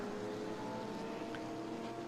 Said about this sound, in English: I can hear cars slowing into turn 1